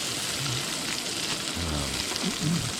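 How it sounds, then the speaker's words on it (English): Sausage, onions, garlic and jalapeño peppers fry in a pan at a camp kitchen, giving a continuous crackling sizzle throughout, close and steady, with a faint voice murmuring briefly underneath. "we're starting our meal off tonight with some sausage and onions and garlic and jalapeno peppers"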